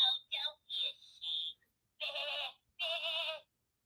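Sheep bleating as a sound effect, five short wavering bleats in quick succession, the last two longer and fuller, loud and close against silence.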